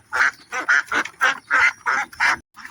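About eight loud quacks from laying ducks in quick succession, close up and evenly spaced, with no talking.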